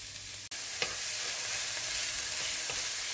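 Garlic and onion with a pinch of salt fry gently over moderate heat in a pan, a soft continuous sizzle broken by a sharp knock at the start and a few light stirring scrapes.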